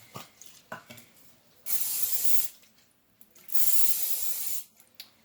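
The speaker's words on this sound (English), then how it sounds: "I'm just gonna use cooking spray today" Two long, steady hissing bursts of aerosol cooking spray onto a pan, each lasting about a second, separated by quieter handling noises and light clicks.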